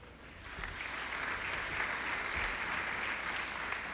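An audience at a county awards day applauds scholarship recipients, a soft, distant wash of steady clapping that swells after the first half second and holds evenly.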